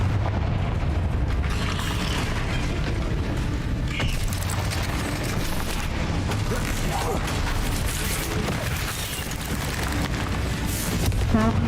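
Confringo spell explosion in the Hogwarts Legacy video game: a loud, dense burst of blasting rumble and crackling debris that churns continuously, with creaking, mechanical clatter layered over it.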